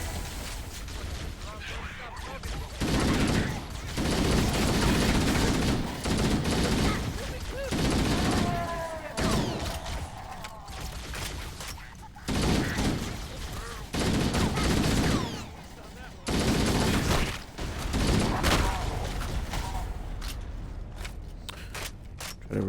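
Bursts of rapid automatic gunfire from the video game Halo crackle in dense clusters with short pauses between volleys, loud and close, while a voice talks now and then over the shooting.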